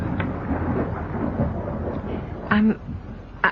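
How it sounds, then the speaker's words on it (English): Thunder rumbles low and continuous in a radio drama, with a brief voice cutting in over the storm sound. "It must have been the thunder."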